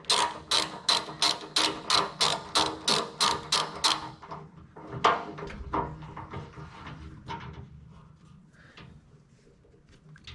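A 7/32 Allen socket on a ratchet tightens a tailgate stop on a 1947–53 Chevy truck, giving a close run of about a dozen even ratchet clicks, followed by slower scattered clicks that fade away.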